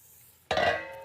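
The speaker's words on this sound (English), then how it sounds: "I'm using a bundt pan that I'm actually going to spray with nonstick spray" Nonstick cooking spray hisses into a bundt pan in one short, fairly loud burst of about half a second, starting abruptly after a quiet kitchen moment.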